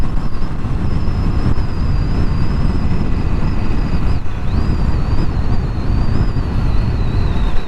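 A Ducati Streetfighter V2 motorcycle engine runs steadily while being ridden, a constant loud drone mixed with heavy wind rush, with a brief dip around the midpoint like a gear shift.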